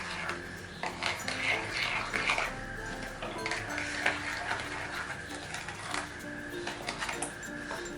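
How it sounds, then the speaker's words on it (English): Batter of suji, baking powder and other cake ingredients being stirred in a bowl for an eggless, butterless cake, giving a steady run of clinking, scraping utensil sounds against the bowl, close and moderately loud throughout. "We are going to give a nice mix."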